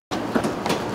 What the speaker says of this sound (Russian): Спецпоезд прибыл на Липецкий вокзал ровно в 10 утра